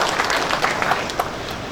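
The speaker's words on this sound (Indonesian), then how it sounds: "Berikan tepuk tangan yang terbaik untuk Tuhan." A church congregation breaks into short applause, a dense patter of many hands clapping at moderate volume for under two seconds, with no voices over it.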